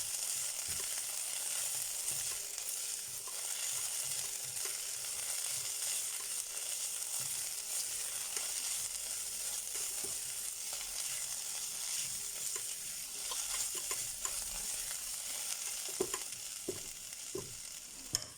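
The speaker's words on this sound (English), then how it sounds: "So now I think we can add the garlic. And we can cook that for a few seconds." Garlic sizzles in a hot pan for German beef goulash, a dense, continuous hiss with bright crackling and a few soft stirring scrapes toward the end.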